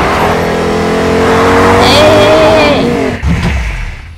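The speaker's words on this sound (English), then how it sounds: "Don't come over here with your loud cars." Loud car engines in the video game Fortnite rev and roar up close, a sustained engine drone with rising pitch that ends in a thud and rumble, while a voice talks over it.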